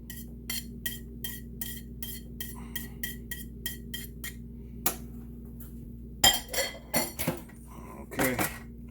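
Potato and cottage cheese dumpling filling stirred in a bowl, a steady run of light utensil taps and clinks against the dish, then a few louder clanks of pots and dishes near the end.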